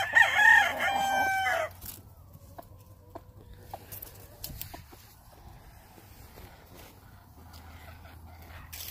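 A Peaks Butcher gamecock rooster crows once, a loud, close call lasting under two seconds, followed by quiet farmyard ambience with faint scattered sounds.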